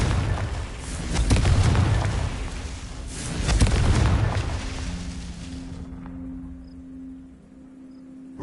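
Confringo fire spell in Hogwarts Legacy bursting in two deep, loud explosive booms with rumbling tails, followed by a fading low hum as the blasts die away.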